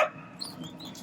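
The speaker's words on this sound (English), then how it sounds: "excuse the dog" A dog barks briefly and faintly in the background of an outdoor backyard barbecue, with a quick yelp near the start and another at the very end over low ambient noise.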